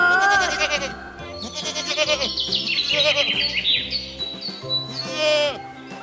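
A goat bleats in wavering, nasal cries over bright music, with a chirpy high tone layered on top.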